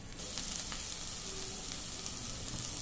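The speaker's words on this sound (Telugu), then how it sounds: "మనకు ఉల్లిపాయలు అన్నీ వేగిపోయినాయండి. దాంట్లో పాటు మనకి ఇది కూడా వేగుతుంది." Onions and broad beans frying in a pan for a bean curry, a soft steady sizzle with faint crackles, quiet and close, no voices over it.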